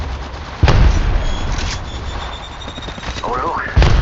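Gunfire in the Apex Legends video game, with loud bursts of shots near the start and again at the end, under a steady in-game background and a brief synthetic whine.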